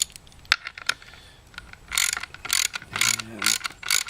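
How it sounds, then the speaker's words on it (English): A ratchet wrench threads a bolt into a carry plate T-nut, giving bursts of quick clicking strokes close up with brief pauses between them. "Thread the bolt in."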